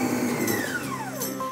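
A blender whirs as it mixes cream cheese, whipping cream and fructose for a low-fat tiramisu, a close, steady motor whine whose pitch slowly sinks as the load thickens.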